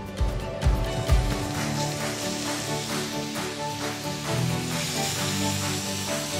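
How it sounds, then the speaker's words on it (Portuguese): Meat sizzles and spits in hot bacon fat with a steady frying hiss, while faint tones hum in the background. "agora eu vou colocar a carne para fritar"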